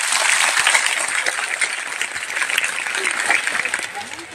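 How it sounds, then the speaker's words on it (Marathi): A crowd at a public gathering applauds the event organisers with loud, dense clapping that holds steady for several seconds before tapering slightly at the end. "आणि एक मोठ्या टाळ्यांचा गडगडाट या कार्यक्रमाच्या आयोजकांसाठी होतो"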